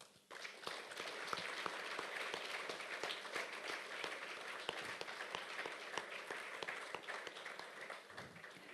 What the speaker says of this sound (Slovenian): kljub temu pa si zasluži aplavz.